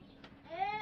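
Sheep at a farm park in Romania give a drawn-out, wavering bleat that swells to moderate loudness after a faint, muffled start, with no voices.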